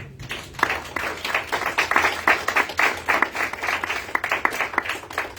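A church congregation claps for the Lord during a Spanish-language sermon. Many hands beat in brisk, slightly rhythmic bursts that rise and fall for several seconds, close and lively, with no voice over them.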